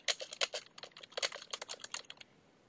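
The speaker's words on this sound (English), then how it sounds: "I've just started typing Metz Woodsman" Quick, close keystrokes on a computer keyboard come in uneven bursts of clicks and taps, stopping just before the end with near quiet after.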